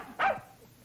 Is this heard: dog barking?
yes